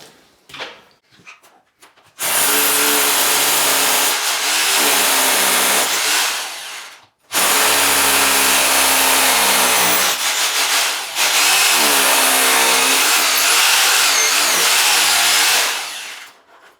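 Loud, harsh power-tool whine of a drill boring into ice in a snowbound Arctic winter, three long bursts separated by brief pauses, with a grinding, vibrating texture throughout.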